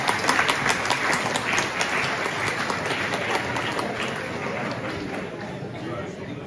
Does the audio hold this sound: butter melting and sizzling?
no